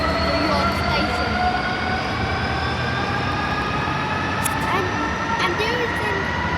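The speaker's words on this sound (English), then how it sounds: "now the two diesel train are leaving the York Station." Two diesel trains pull out of York Station with a continuous rumbling roar, engine drone and faint squealing wheel tones, heard close and steady throughout.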